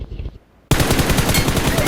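Rapid automatic gunfire from a spray in PUBG Mobile, a dense, loud burst of rattling shots that starts abruptly after a short quiet lead-in and runs continuously to the end.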